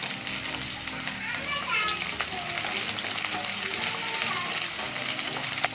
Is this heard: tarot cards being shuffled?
no